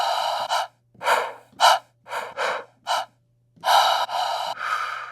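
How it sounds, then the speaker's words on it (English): A series of sharp, breathy exhales, one after another with short pauses, close and clear with no talking. "we have the exhales as well"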